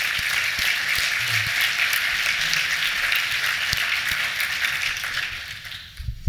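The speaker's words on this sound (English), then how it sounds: "let's give a big round of applause to them" Conference audience at a closing session of an energy forum clapping, sustained applause of moderate density that thins and fades out toward the end.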